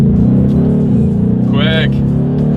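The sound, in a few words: Ford Mustang GT 2023 accelerating in first gear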